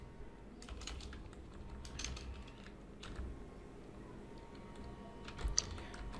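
Fingers type quickly on a computer keyboard, giving a faint, steady patter of soft key clicks close by.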